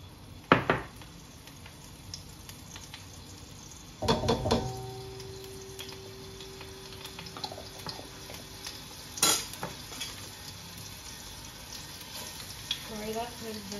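Bean paste (baojiang) fries in oil in a hot pan for popiah filling, with a steady low sizzle under a few sharp clanks and scrapes of a utensil stirring against the pan, some spaced apart, with a voice speaking briefly.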